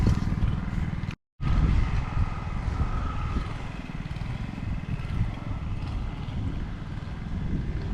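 Strong wind buffeting the microphone in a vegetable garden, a constant low rumbling roar with a brief cut near the start.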